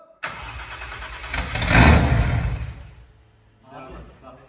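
A Nissan 200SX S14a fitted with a 2JZ engine, left sitting for four years, cranks and fires up. It swells into a loud rev, then drops back and settles into a rough idle.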